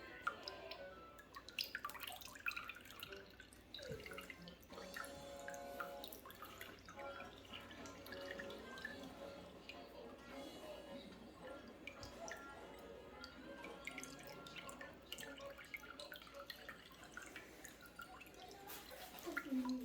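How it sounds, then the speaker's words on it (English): Brine juices drip and trickle steadily off a chicken that has brined for 24 hours, a soft, continuous wet patter heard close but quiet throughout. "I'm going to let as much of the juices drip off as possible."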